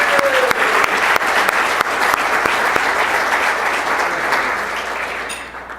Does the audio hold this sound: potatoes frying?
no